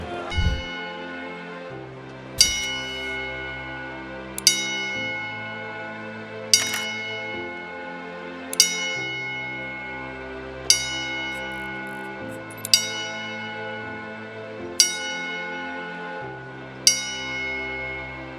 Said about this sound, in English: As we give a 10-bell salute, Hulk Hogan.